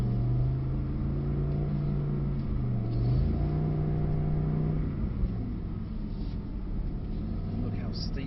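A Mercedes-Benz SL63 engine hums and revs from inside the cabin while driving, a low rumble rising and falling in pitch, with people chatting over it.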